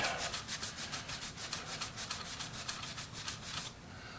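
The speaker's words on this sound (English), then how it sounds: "I'll keep rubbing that until that towel comes back away clean" Towel rubbed hard against the finish of a BC Rich Masterpiece bass guitar, a steady run of brisk, rhythmic back-and-forth swipes, close and fairly loud, stopping just before the end.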